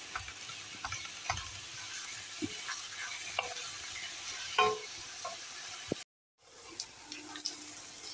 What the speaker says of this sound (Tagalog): Halo-haloin na natin para hindi sila mabuo-buo.